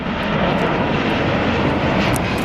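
A jet airliner roaring at Atlanta airport, a loud steady engine rumble and whine filling the air without a break.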